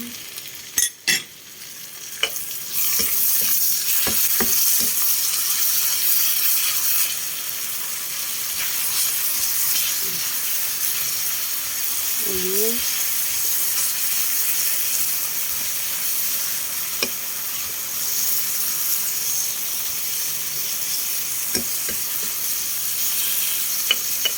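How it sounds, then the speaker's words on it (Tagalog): Loud, steady frying sizzle of dilis (anchovies) with sugar in a pan, continuous hiss with scattered scraping stirring clicks throughout, close and without speech. "So, halo na natin itong dilis."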